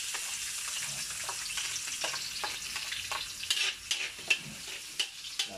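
Garlic fries in hot oil in a pan for laing, a soft steady sizzle with occasional scraping stirs that grow more frequent and sharper toward the end.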